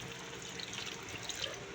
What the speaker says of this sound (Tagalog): Dagdagan natin ng konting tubig lang po